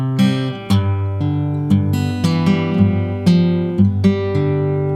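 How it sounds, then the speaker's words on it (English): Fingerstyle acoustic guitar plays a pick-and-roll pattern from a song, with plucked notes and ringing chords in a flowing, syncopated rhythm, close and clear with no talking. "We have this tricky little finger pick and roll here."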